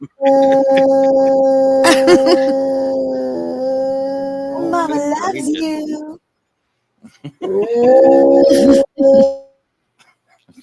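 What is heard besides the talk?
dog howling in its sleep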